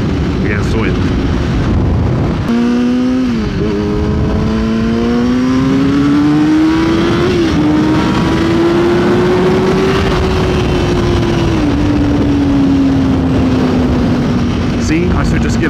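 A motorcycle cruising on a highway roars with heavy, constant wind rush over a steady engine drone that slowly rises and dips in pitch, loud and close throughout.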